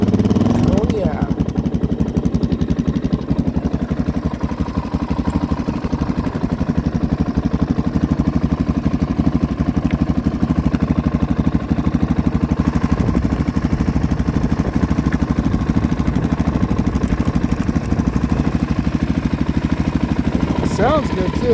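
A 2000 Suzuki DRZ400 dirt bike engine idles steadily after firing right up, a close, continuous low throbbing rumble that runs for the whole stretch while people talk over it.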